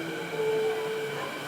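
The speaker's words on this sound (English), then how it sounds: "The train to the airport comes about every 6 to 7 minutes." A rail train to Vancouver airport rumbles along steadily with a low continuous drone, and a brief thin wheel squeal rises in the middle, heard from inside at moderate volume.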